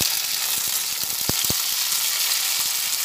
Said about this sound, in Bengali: পেঁয়াজ আর রসুন ভাজা হচ্ছে, সেই সময় অল্প টমেটো আমি এর মধ্যে দিয়ে দিলাম।